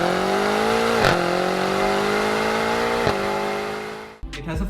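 Steady engine drone from a BMW M5 Competition, a 4.4-litre twin-turbo V8 sedan, holding a near-constant pitch with a slight rise, close and loud, briefly cut near the end by a different rougher noise.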